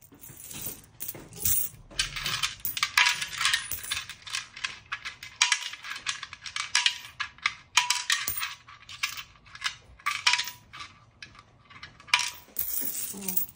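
Handfuls of coins clink and rattle into a piggy bank in rapid, dense bursts of metallic jingling that go on throughout, fairly close and steady, with no talking.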